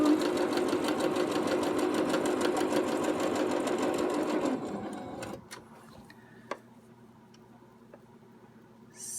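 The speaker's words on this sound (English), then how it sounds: "we'll just go ahead and sew" A Singer One sewing machine fitted with a leather needle stitches fabric in a fast, steady mechanical whir for about five seconds, then stops, leaving quiet room tone broken by a few faint clicks and a single sharp tick.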